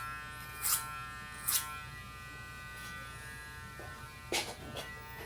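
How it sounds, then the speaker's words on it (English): Electric hair clippers buzz steadily at close range while cutting hair clipper over comb during a low fade haircut, with a few brief louder bursts as the blade bites through hair. "I don't think there's any better machine for clipper over comb. This is just awesome to have something that can speed up like that."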